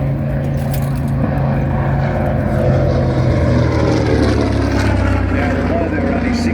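A General Motors-built TBM (Grumman) Avenger torpedo bomber flies a display at an airshow, its propeller engine droning loud and steady throughout, with a voice talking over it.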